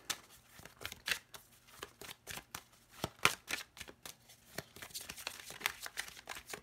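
Oracle cards are shuffled by hand in quick, crisp riffling bursts, each a short papery flutter, repeated irregularly and close up in a quiet room.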